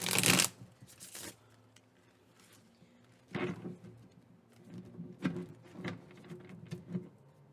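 Cards being shuffled in several short bursts, a loud riffle at the start then softer flicks and riffles, close by with quiet pauses between.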